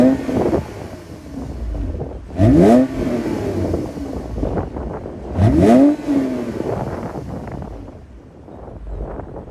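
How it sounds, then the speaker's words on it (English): A 2024 Toyota Camry TRD with its 3.5-liter V6 and TRD catback dual exhaust revs twice in sharp, loud bursts, each swelling from idle, with wind buffeting the microphone throughout. "And then we have the TRD catback dual exhaust that's installed on this Camry."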